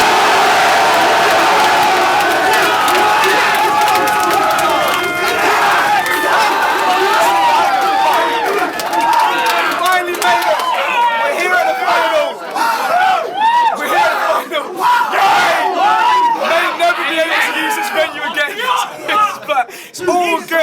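Rap battle audience at the final of a Don't Flop top-eight tournament cheering, whooping and shouting loudly and continuously, a dense crowd roar with bursts of yelling that swell toward the end.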